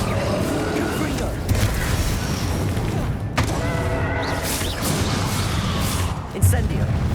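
Confringo fire spell exploding during a Hogwarts Legacy battle, several sharp booming cracks scattered through busy, loud combat noise with whooshes and a steady rumbling background.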